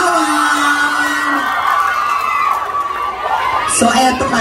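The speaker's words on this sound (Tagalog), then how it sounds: "Pahinig ako ng palakpakan at" A crowd at a mall show cheers and shouts, with high excited whoops and screams over a dense roar of voices, swelling again near the end.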